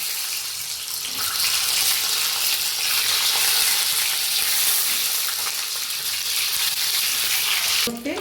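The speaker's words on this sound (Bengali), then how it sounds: "এবার আমি ডিমগুলো একটু ভেজে দিচ্ছি" Eggs fry in a pan with whole cumin and a pinch of sugar for an egg curry. A loud, steady sizzle holds from start to finish with no talking, then cuts off abruptly at the very end.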